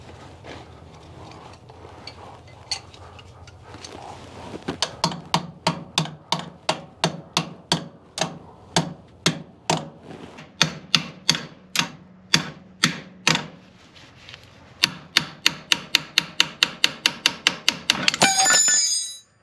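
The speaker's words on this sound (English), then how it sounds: "I might have to get a hammer, help persuade it a little." Repeated sharp metallic hammer strikes on an International 674 tractor's steering part, steady at first then speeding into a rapid burst, ringing off metal close by.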